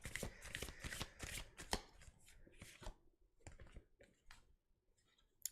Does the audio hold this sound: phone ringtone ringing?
no